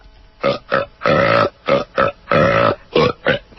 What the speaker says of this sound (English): Tell me what song this is. It's in the belches.